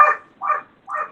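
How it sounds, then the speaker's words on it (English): A dog barks three times in an even rhythm, loud and close, with no talk over it, heard during an online meeting. "I apologize for my dog."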